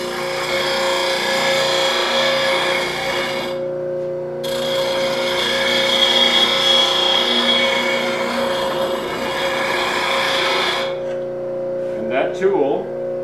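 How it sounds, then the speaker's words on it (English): Bench grinder sharpening a wood turning lathe tool, a steady loud whine with a strong tonal hum, briefly interrupted near the middle as the tool is passed back and forth, ending with light handling noises. "and I'm ready to grind."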